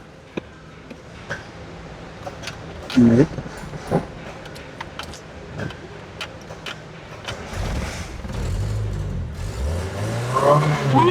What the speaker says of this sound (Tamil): அந்த வண்டி ஸ்டார்ட் பண்ணி பார்க்கலாம்